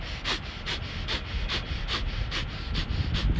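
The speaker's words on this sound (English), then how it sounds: "breathe quick spurts of sort of breathing in and out through the nose" Quick rhythmic spurts of breath pumped in and out through the nose, about eight sharp, close puffs at a steady fast pace with no talking.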